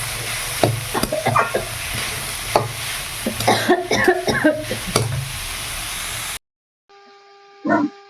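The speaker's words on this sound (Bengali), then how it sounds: "এই যে দেখো এখন হচ্ছে আমি ভালো করে কষিয়ে নিচ্ছি" Fig and potato curry cooking down with spices in a pan, a close hissing sizzle with rapid clattering stir strokes, then a sudden silence and a short tonal sound at the end.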